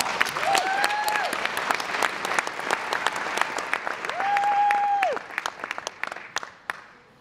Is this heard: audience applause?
yes